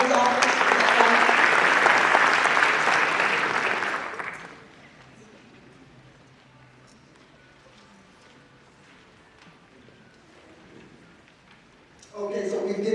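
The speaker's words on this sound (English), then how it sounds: "so we've given them a round of applause" Dense, loud applause from a crowd at a community justice assembly, a steady roar of clapping for about four seconds that fades into a quiet room before a brief burst of noise returns near the end.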